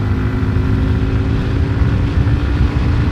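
A Yamaha MT 125 motorcycle pulling hard at full throttle in fifth gear from around 6000 rpm, a steady loud engine drone with wind rush, heard up close from the rider's position.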